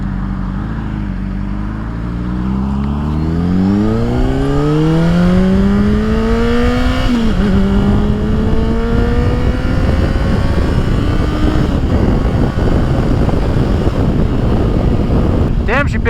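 A 2007 Honda CBR600RR sport bike with a flash tune pulling hard through the gears, its engine note climbing steeply, dropping at a quick shift, then rising again, loud and close with wind rush and brief talk.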